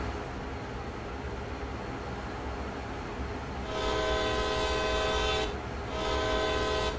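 A locomotive horn in Train Sim World's CSX Heavy Haul route sounds two loud, sustained blasts, a long one and then a shorter one, over a steady rumble of the moving train.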